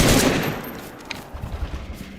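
AK rifle fire in the video game DayZ: a loud burst fades into a series of quieter rapid, irregular shots with no talking.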